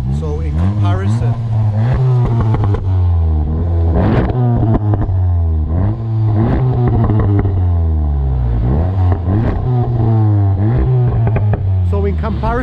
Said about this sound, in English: Now that is gargling and popping a lot more than this 390, and it does come down to that resonator delete